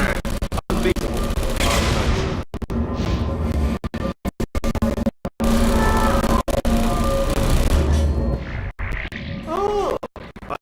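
Turrets in the video game Portal 2 fire repeated rapid bursts of gunfire in clustered volleys, loud and chaotic with abrupt silences between them, mixed with other game sounds and a few electronic chirps near the end.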